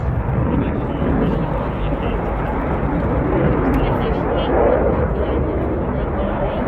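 A jet makes a high-speed pass at an air show, a loud, sustained, deep roar that swells and rumbles without letup for several seconds.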